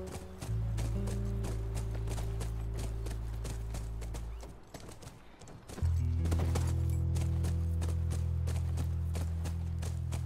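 Horse hooves clip-clop in a steady rhythm while riding in The Last of Us, with a low rumbling ambience underneath and a short pause before the riding resumes.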